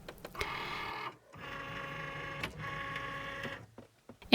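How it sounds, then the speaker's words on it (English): A Cricut Maker cutting machine whirs as its rubber rollers feed the cutting mat, in three steady mechanical runs separated by short pauses, close and fairly quiet. "as you're pressing the mat feed button over and over again"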